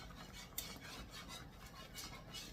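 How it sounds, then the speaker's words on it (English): A whisk scrapes and stirs through thick sausage gravy in a pan, a steady close rasping with a sharp clink near the start, continuous and alone without talk. "I love my gravy whisk."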